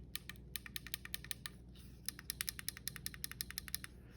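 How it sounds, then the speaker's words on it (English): Clicky buttons on a lightsaber hilt pressed in quick succession, making a run of crisp, close clicks with a short pause in the middle. "The buttons, they all function with a clicky."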